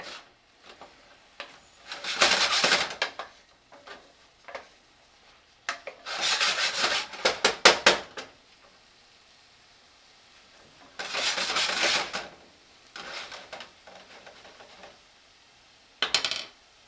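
Minced garlic, five tablespoons' worth, stirred into an onion mixture in a soup pot for a beef soup, giving several bursts of scraping and rubbing utensil against pot separated by quieter pauses, close and clear with no talk.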